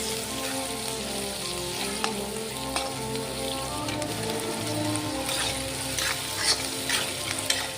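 Onions fry in a pan for a Latur-style potato bhaji, giving a steady, close sizzle that runs throughout, with small crackles and light stirring scrapes and no voices.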